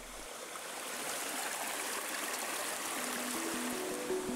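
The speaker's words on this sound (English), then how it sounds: "Waterfalls and rapids alternate with calmer stretches of water" Rapids on the river Holtemme in the Harz Mountains, a steady, broadband rush of tumbling water, close and continuous with no other sounds.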